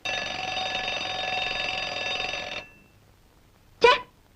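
An alarm clock rings in a steady, continuous electronic trill for about two and a half seconds, then stops abruptly, followed by a brief sharp sound.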